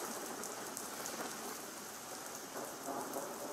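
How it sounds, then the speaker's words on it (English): Steady heavy rain pours down during a thunderstorm outside a cave, a dense continuous hiss with faint low rumbling beneath, no voices. "Man, that storm sounds bad out there."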